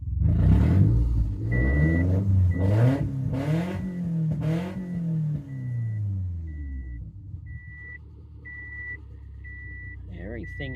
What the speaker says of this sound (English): This engine runs really nice.